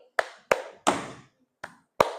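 Five sharp hand claps in an uneven rhythm, the third a bit longer and fuller, close and clear with silence between.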